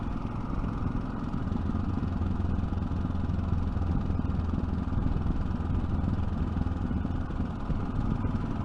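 Steady close rumble of a Yamaha 660 Ténéré engine braking while riding, a dense low drone with faint clatter and wind, unchanging across the stretch and free of voices.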